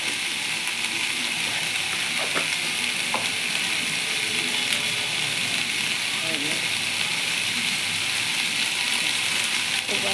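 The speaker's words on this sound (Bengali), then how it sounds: "আবার একটু কষিয়ে নিচ্ছি, ভালো করে মিক্স করে নিচ্ছি নুনটা।" Matar paneer masala sizzles and fries in a pan, seasoned with salt and stirred. A continuous close frying crackle plays, with a few faint utensil taps over it and no talk.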